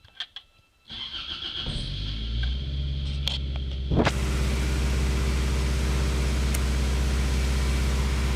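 A Toyota AE86 with a 20-valve Blacktop 4A-GE engine cranks and starts after a few clicks, then settles into a steady, close, slightly high idle that hums on without interruption.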